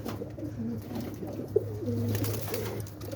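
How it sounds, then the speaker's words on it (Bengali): Domestic pigeons at rest in a loft coo in low, soft, repeated murmurs, with steady warbling calls close by and no talk. "এই যে এটা একটা বান্দা কবুতর রেস্টে আছে"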